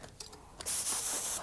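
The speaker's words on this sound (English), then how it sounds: "So I'm going to spray this table." Paint sprayer coating a table with a steady, loud hiss that starts abruptly and holds, after a few faint lead-in bursts.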